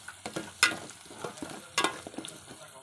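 Drumsticks tumbling into fried masala for a goat brain curry, a few sharp clattering drops and stirring scrapes over a steady close sizzle, no talking.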